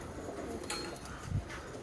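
Birmingham Roller pigeons in a loft give a soft, low coo, one brief throaty burst near the end, against faint fluttering and background rustle.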